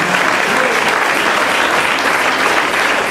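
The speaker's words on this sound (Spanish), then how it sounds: "Denle un aplauso fuerte al Señor de Señores." A large crowd claps steadily and loudly, a dense, continuous wash of applause filling the whole moment.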